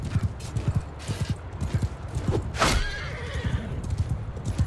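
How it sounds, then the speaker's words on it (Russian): Cavalry horses in a Mount & Blade II: Bannerlord battle, The Old Realms mod, gallop with rapid, steady hoofbeats, and one horse lets out a sharp whinny in the middle of the clip. "Лошадь выжила."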